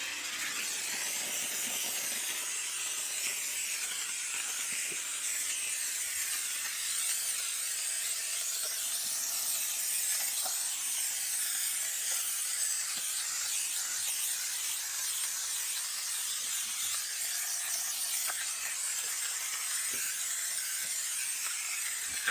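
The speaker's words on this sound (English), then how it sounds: "then you could come back with some steam, give that a little bit more extra power" A steamer blasting steam onto a grimy car interior to loosen dirt, a continuous close hiss with faint clicks, no talk.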